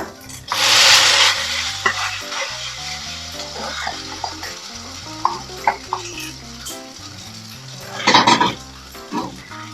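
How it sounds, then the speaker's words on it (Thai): Rice noodles stir-fried in a hot pan for shrimp pad thai, with loud bursts of sizzling at the start and near the end and spatula scrapes and knocks in between, over a low background hum. "ต่อไปก็ใส่เส้นลงไปผัดเลยค่ะ"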